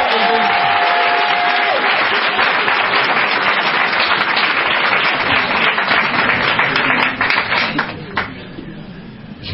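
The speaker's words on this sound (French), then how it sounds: "Est-ce qu'on peut acclamer Jésus-Christ?" A church congregation applauds and cheers for Jesus Christ, loud sustained clapping from a large crowd that fills the room and then thins out toward the end, with some voices mixed in.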